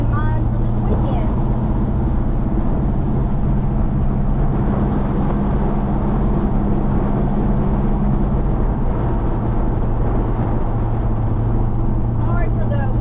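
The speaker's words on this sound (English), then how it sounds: "Sorry for the wind noise." Wind roars through the open windows of a moving 1971 GMC truck, a loud, steady broadband rush over a low engine and road drone that lasts the whole time, with no clear speech.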